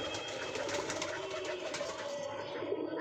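Pigeons coo steadily in a loft where chicks are being raised, low throaty calls blending into a continuous close murmur over faint background hiss.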